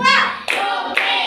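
A class of children claps hands together in rhythm during a warm-up exercise, with short sharp clap bursts landing about every half second, loud and close, while a voice is faintly mixed in.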